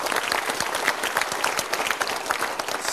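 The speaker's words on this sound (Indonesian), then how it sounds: "kita berikan tepuk tangan." Audience applause at a Mario Teguh Golden Ways motivational talk show, a dense, steady wash of many hands clapping for the full three seconds, fairly loud and even with no talk over it.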